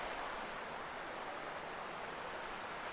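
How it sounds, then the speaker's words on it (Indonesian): Strong river current from the Konteng river at the Payaman aqueduct and embankment, a steady broadband rush of flowing water, loud and unbroken throughout with no voices. "Kalau air dari Sungai Kontengnya itu cukup kenceng juga guys, mengalir terus airnya."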